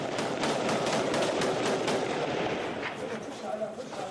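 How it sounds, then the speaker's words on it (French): Rapid bursts of gunfire crackle over a dense, noisy background during the battle of Misrata, Libya, with shots blending into a continuous rattling roar. "Premier coup de feu pour l'ingénieur du bateau."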